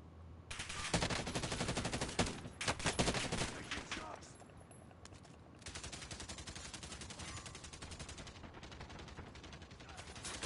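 Rapid automatic gunfire in the Warzone video game on Rebirth Island, loud sustained bursts with a brief lull before more steady machine-gun fire, close and dominant over the game's background noise.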